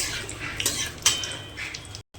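Whole cardamom and cinnamon stirred in a cooking pan, with a few light metallic scrapes and clinks of a spoon against the pan, close and fairly quiet, with no talking.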